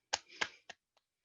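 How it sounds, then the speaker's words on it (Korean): A few sparse hand claps ring out in a quiet classroom for a student group, three sharp claps close together followed by a couple of fainter ones, with no talking. "다솜조에도 박수."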